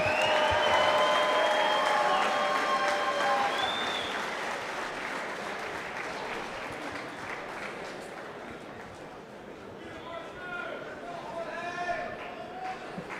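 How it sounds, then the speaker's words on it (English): Fight night crowd at a Tuff-N-UFF amateur MMA event applauding, a long loud roar of clapping that slowly fades, with scattered whistles and shouts rising through it. "Ladies and gentlemen, let's give them a big round of applause."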